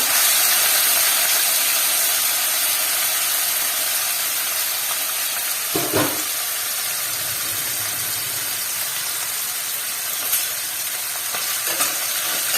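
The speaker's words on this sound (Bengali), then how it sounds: "এই তেলেই আমি এবার চুনো মাছগুলো দিয়ে দিচ্ছি ভাজার জন্য।" Small chuno fish fry in hot oil, a steady, loud, close sizzle and hiss that runs throughout, with a few brief sharper spatters breaking through now and then.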